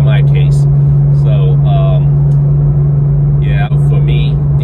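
At a steady 60 mph in seventh gear, a heavy, unbroken low exhaust drone from bypass pipes fills the cabin along with road rumble, while a voice talks over it in short bursts.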